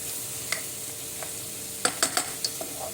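Sliced mushrooms sauté in a pot for a homemade mushroom soup, giving a soft, steady sizzle broken by a few sharp clicks of a stirring utensil against the pot.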